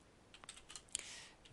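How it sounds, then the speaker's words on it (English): Fingers tap on a computer keyboard while a spreadsheet title is entered, a short burst of quiet, irregular key clicks close by, faint over a soft background hiss, with no voices. "In cell A1 I'm going to type the title of the spreadsheet"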